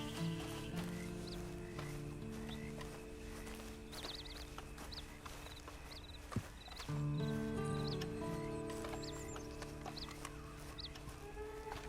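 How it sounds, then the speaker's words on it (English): Horse riding in the video game Red Dead Online, with soft hoof clip-clops and occasional snorts layered under farm ambience, clucking chickens and birdsong, all fairly quiet and steady. "Then you better get on this horse."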